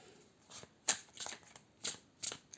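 Tarot cards being shuffled in soft, quick riffles and flicks, several separate bursts close by and fairly quiet, with no voices.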